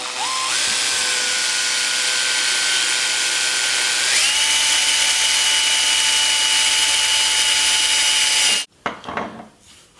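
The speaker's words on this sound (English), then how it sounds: "I'm going to put a couple of sheet metal screws in" A power driver runs hex-head sheet metal screws into metal dust-collection ductwork. Its loud, steady whine rises in pitch partway through, then cuts off abruptly, followed by a few brief clanks.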